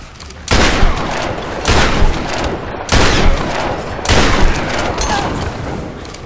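Loud bursts of rapid gunfire in Tomb Raider (2013), four long volleys separated by brief pauses, close and dominating.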